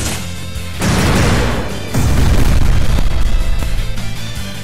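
A special attack in the Digimon World Data Squad video game lands as two loud, booming bursts of impact and explosion, the second heavier and sustained, with no talking over it.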